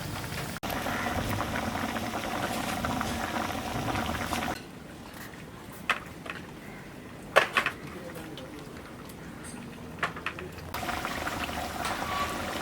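Pathiri, a flat rice bread, frying in hot oil, a steady bubbling sizzle that drops quieter midway with a few sharp clinks before the louder frying returns.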